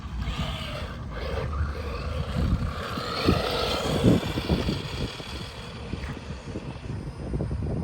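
A vintage Team Associated RC10 radio-controlled car with 32-pitch gears runs close by, giving a continuous whining, roaring buzz of motor and gear noise, with a few sharper clicks from the wheels around the middle.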